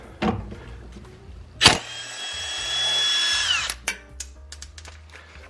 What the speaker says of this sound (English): one nut here, so I'm gonna remove that nut